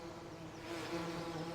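Bees buzzing around their hives in the Farming Simulator 19 video game, a steady, close droning hum with a layered harmonic whine that swells slightly partway through.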